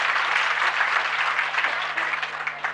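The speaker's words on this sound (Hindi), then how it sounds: "मैं देखूंगा कौन सी घोषणा में ज़्यादा ताली बजती" A crowd at a chief minister's public programme in Nathdwara, Rajasthan claps in steady, sustained applause, heard from a middle distance without talk over it.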